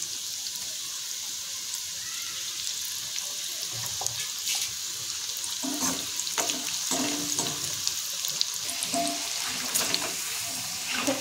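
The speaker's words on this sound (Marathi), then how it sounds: "आता तेलामध्ये एक एक करून आपल्याला अशा सोडून घ्यायचे आणि छान क्रिस्पी करून आपल्याला ते तळून घ्यायचे।" Okra pieces frying until crispy in hot oil in a wok, giving a steady close sizzle with a few brighter crackles and clinks partway through, no talking.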